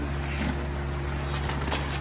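Baby pigeons being carried in a cage coo softly with faint wing flutters, half buried under a constant low droning hum.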